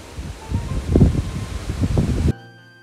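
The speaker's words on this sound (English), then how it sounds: "it's windy." Gusty wind batters a microphone outdoors, producing loud irregular rumbling buffets for about two seconds before the sound cuts off abruptly.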